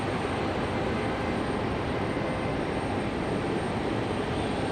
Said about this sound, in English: Got Republic Airways pushing back.